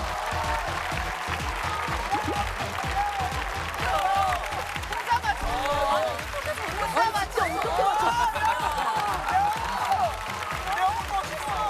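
Studio audience applauding a singer, sustained dense clapping with scattered cheers and excited voices over it, fairly close and lively throughout.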